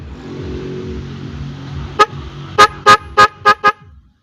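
A snail horn on a Bajaj sounds once, then five quick loud honks in a short burst, close by, after a stretch of quiet low rumble.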